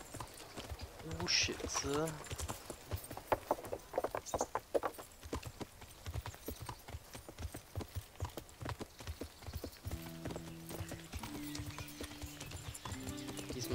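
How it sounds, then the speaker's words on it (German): Hooves of a ridden horse clip-clop in a steady walking rhythm in the medieval game Kingdom Come: Deliverance, close and continuous, with a brief whinny early on and someone talking over it. "Diesmal reiten wir da einfach hin."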